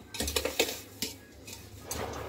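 A spoon scraping and clinking against a pot while mixing a suji and mawa laddu mixture with ghee, several quick metallic knocks then softer scraping, close and alone.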